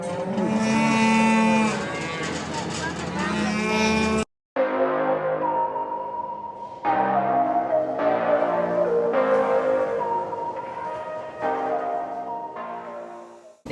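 Bred cattle being herded back to pasture moo loudly and repeatedly, with long overlapping calls from several animals close by, one after another.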